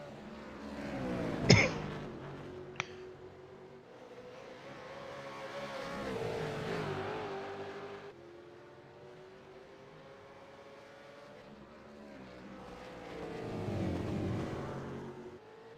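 V8 Supercars racing around the Road Atlanta circuit, several engines droning and swelling in pitch as cars accelerate past, with a sharp bang near the start and a steady roar that rises again toward the end.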